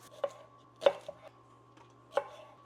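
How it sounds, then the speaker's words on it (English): A knife rough-chops onion on a cutting board in a home kitchen: a few sharp, separate chops spaced irregularly, close and clear over a faint steady hum. "I'm gonna cut some onion, just rough chopping this."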